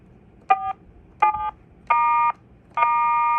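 Keypad tones from a cheap AT&T 1830 landline phone: four clear beeps, the first two short and the last two longer and steady, evenly spaced and close.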